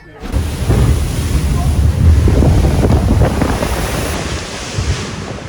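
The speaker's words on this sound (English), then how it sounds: "riding Splash Mountain, a water ride where you can get wet right now" The Splash Mountain log flume at Magic Kingdom: loud rushing, splashing water roars continuously, heavily buffeted by wind noise on the microphone.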